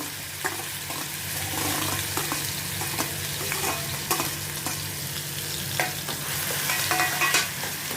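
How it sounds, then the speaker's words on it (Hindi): Chopped onion hitting hot oil in a pan for a dhaba-style aloo matar sabzi, a steady close sizzle with stirring scrapes and small crackles throughout, no voices. "इसमें मैं भी ये कटा हुआ प्याज डालती हूँ।"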